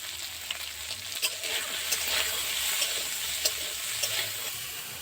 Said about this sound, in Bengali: তেলটা গরম হয়ে গেছে, এবার কাঁকড়াগুলোই তেলের মধ্যে দিয়ে দেব।